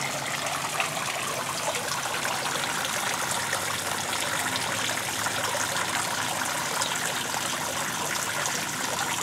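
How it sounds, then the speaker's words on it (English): Continuous hiss and splash of water spraying from a homemade garden pond sprayer made of bent, pinched copper tubing, steady and close with no talking. "what I rigged up for a sprayer slash fountain slash shower slash whatever you want to call it"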